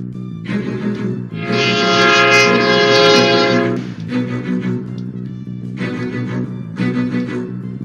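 A train in the Roblox game MrBeast Experience blasts its horn loudly: a short honk, a long sustained blare, then several shorter bursts, all close and dominant with no talk.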